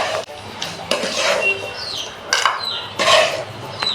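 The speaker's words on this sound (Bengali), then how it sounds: "আমার বাদাম ভাজাটা শেষ আমি এখন উঠিয়ে নিতে পারি" Fried peanuts, browned on an electric stove, are lifted out of a metal pan: several sharp clinks and scrapes of a utensil against the pan, close by, with faint bird chirps in the background.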